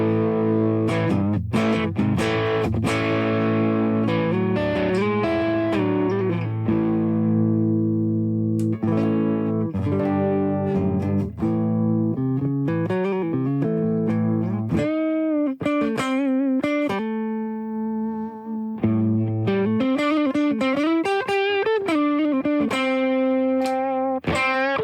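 An electric guitar runs through a NuX Trident multi-effects pedal, playing distorted chords and single-note riffs, then rolled back toward cleaner, brighter tones. It plays loud and continuous with no talking.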